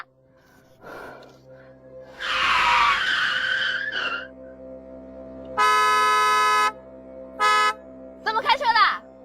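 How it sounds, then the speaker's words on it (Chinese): A car skids with a loud screech, then its horn honks in several sharp blasts in a city street, one long blare followed by shorter toots, with a gasp and raised voices around it. "市区不许鸣笛，你不知道吗？"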